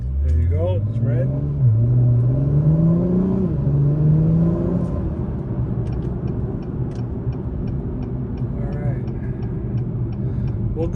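A 2021 Acura Type S in sport mode accelerating at night, its engine and exhaust rising in pitch through the revs, heard from inside the cabin as someone talks over it.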